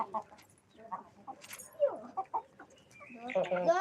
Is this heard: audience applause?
no